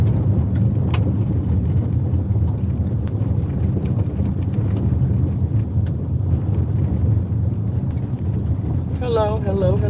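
A car on the road makes steady low interior rumble and road noise throughout, with a voice briefly speaking just before the end.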